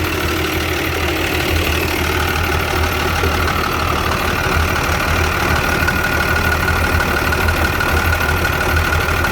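A long-nosed ten-wheel truck's engine idles close by with a steady low drone, overlaid by a continuous rhythmic ticking clatter from the valves.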